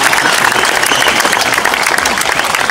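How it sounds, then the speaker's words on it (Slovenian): A crowd at the 2013 jumps into the Krka river applauds the oldest competitor, steady dense clapping throughout, loud and close, with cheering voices mixed in. "še en aplavz za Pina Alvarja!"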